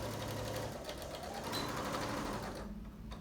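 A sewing machine stitches fabric for a Halloween trick-or-treat bag, running as a steady, close, loud whirring drone that stops shortly before the end.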